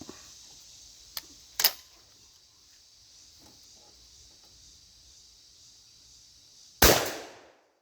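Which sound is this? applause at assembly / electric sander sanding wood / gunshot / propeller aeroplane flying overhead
gunshot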